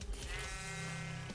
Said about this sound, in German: Okay, hier sind Schafe.